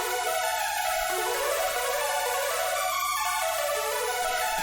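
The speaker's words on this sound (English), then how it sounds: "And this is layered with the saw, with a saw sound, which sounds like this." A synthesizer saw-wave layer from a song's arrangement sounds continuously and fairly loud, a bright buzzy sustained tone with slowly shifting pitches and no voices.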